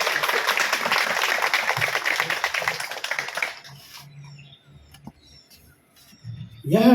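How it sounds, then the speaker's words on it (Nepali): Guests at a wedding ceremony clap together in dense, steady applause for about three and a half seconds before it dies away into a quiet room with faint murmurs. "सबैले ताली बजाउँ एकचोटि फेरि।"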